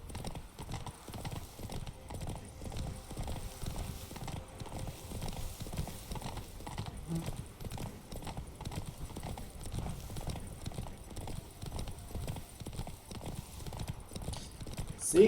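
Hooves clip-clop steadily on the ground as a horse trots in The Witcher 3: Wild Hunt, a quick, even, muffled beat running throughout at moderate volume.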